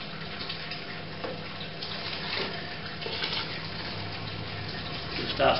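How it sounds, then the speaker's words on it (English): Water trickles and pours steadily onto a grain bed during sparging for a NEIPA brew in a Robobrew system, a continuous close splashing wash with no talk. "start sparging slowly now"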